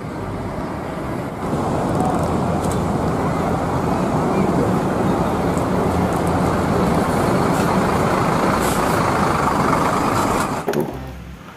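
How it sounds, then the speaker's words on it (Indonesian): An Eka bus engine drones loudly and steadily at close range for several seconds, ending with a brief hiss like an air brake release as the sound drops away. "Ini bis Eka-nya ya."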